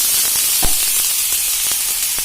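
Water splashed onto a hot iron dosa griddle greased with oil sizzles, a loud, close, steady hiss with brief crackling bursts throughout.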